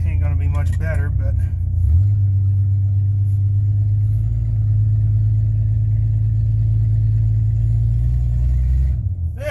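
A vehicle engine labours steadily while the vehicle backs up a hill. The low, loud rumble holds a sustained strained drone for most of the clip, and a voice speaks briefly at the start.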